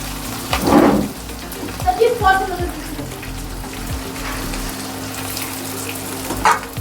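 Halwa roasts in a hot pan with a continuous soft sizzle and crackle, a couple of louder stirring scrapes, and a voice briefly heard over it.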